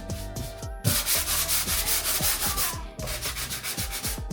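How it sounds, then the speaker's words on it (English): Close, rhythmic scratchy rubbing of sandpaper on a patched wall in quick back-and-forth strokes, pausing briefly before resuming. "so Eric is sanding."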